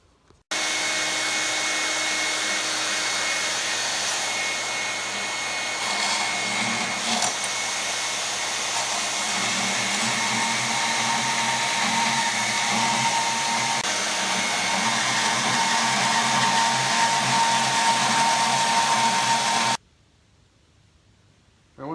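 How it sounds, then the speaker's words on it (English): A bandsaw cuts through a steel scissor blank, giving a steady loud whirring hiss that holds for nearly twenty seconds, then stops abruptly. "We'll just go over on the bandsaw and chop that dude out"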